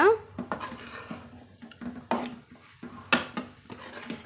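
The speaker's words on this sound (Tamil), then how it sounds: "இப்போ எல்லா தேங்காயும் சேர்த்துட்டு நம்ம கலந்து விட்டுக்கலாங்க" Grated coconut is stirred in a pan over a low simmer for a sweet, the spoon knocking and scraping against the metal in uneven repeated strokes, close and fairly loud, with occasional sharper clanks.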